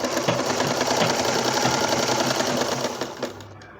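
A sewing machine runs a shoulder seam on a newborn baby dress, its fast, even mechanical chatter close and continuous before slowing and stopping at the end.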